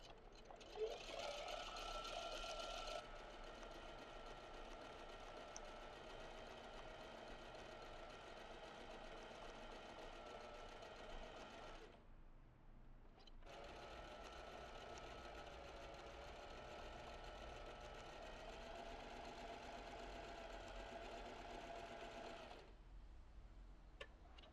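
Zigzag sewing machine running in long continuous bursts while free-motion embroidering rosettes, a steady close mechanical whir with two brief pauses between stitching runs, fairly quiet overall.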